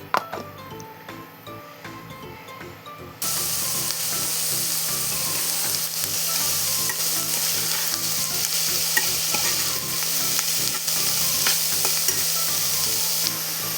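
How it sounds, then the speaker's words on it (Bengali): Peas with ginger-green chili paste, turmeric, cumin, coriander and garam masala being stirred in a kadai, a quiet start giving way at about three seconds to a loud continuous sizzle with scraping and light clinks. "এর সঙ্গে দিয়ে এবার পুরো নাড়বো, নেড়ে পুরো শুকনো করব"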